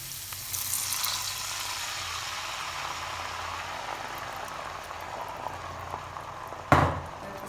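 Spices frying in a pan for a chapati and lentil dish give off a steady, close sizzle that holds throughout, with a brief louder clatter near the end.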